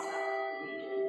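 A handbell rings once with a clear sustained tone that slowly decays, close and alone with no voices.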